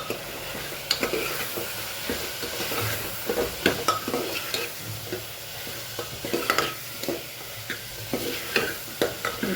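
Masala stirred and frying in a pan with spice powder and salt over a full gas flame: a continuous sizzle broken by frequent scraping and clinking of a spoon against the pan, close and moderately loud.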